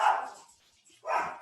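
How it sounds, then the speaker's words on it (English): A dog barks twice, close by and fairly loud, with a short quiet gap between the two barks in a home setting. "my dog is starting to bark"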